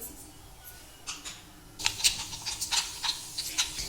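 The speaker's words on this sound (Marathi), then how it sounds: "ही जिरी मोहरी तडतडलेली आहे।" Cumin and mustard seeds crackle and pop in hot oil in a pan. Sharp, close pops come in quick irregular bursts that start faintly, then turn dense and louder partway through.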